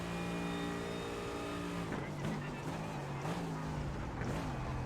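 GT3 race car in iRacing at Spa, a steady loud engine drone that drops in pitch as the car brakes, then rises and dips again through the corners, with a faint voice in the background.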